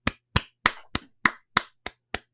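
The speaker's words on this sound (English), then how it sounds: "Round of applause for Roshin for coming last." Eight sharp, evenly spaced hand claps ring out close and dry from a small game-show audience, each clap separated by a brief silence.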